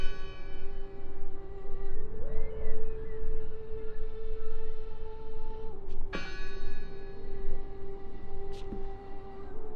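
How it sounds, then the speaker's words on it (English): A deep bell rings in the video game Draugen, a sustained tolling tone that lingers with a long resonant decay, steady and fairly loud against ambient game sound, with a couple of sharp clanks midway. "I heard the bell!"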